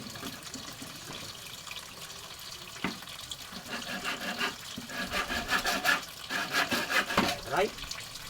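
Rhythmic rasping strokes of a hand saw biting into wood indoors in a house, quickening and growing louder toward the end, with faint background clatter.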